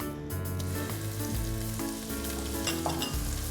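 Onions frying in an oiled pan for a meat pasta sauce give a steady, close, loud sizzle with bursts of crackle as they are stirred, and no one speaks.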